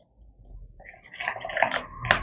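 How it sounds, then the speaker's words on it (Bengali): Water trickles and splashes into a bowl of batter mixed with lemon juice, starting quietly and growing into louder wet splashes near the end. "দিয়ে দিচ্ছি এবারে 1 কাপ পরিমাণ জল।"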